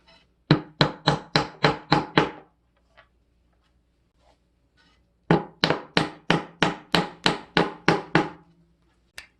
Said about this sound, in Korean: 손으로 눌러서 안 될 때는 망치를 사용을 해야 돼요